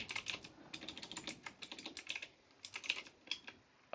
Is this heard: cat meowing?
no